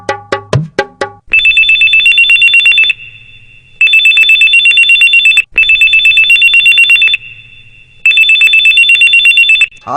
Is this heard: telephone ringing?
yes